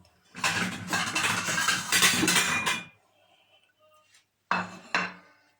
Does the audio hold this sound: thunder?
no